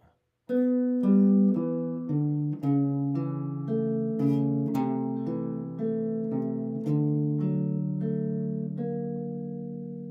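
A solo guitar plays a Christmas piece, plucked notes and chords ringing one after another at a gentle steady pace, clear and close with nothing else heard.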